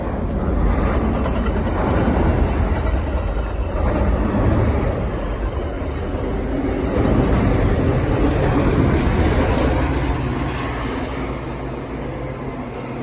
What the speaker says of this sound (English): The train has just passed.